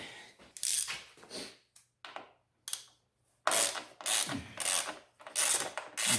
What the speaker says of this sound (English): I'll probably have to get my ratchet